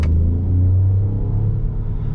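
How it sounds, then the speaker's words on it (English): Artificial engine sound from a 2020 Peugeot 208, piped through the car's speakers, heard as a loud, steady low rumble with a slight rise in pitch, alone with no talk. "the car starts to sound louder. That's because of the speakers. So basically car is projecting the sound. It's a fake sound"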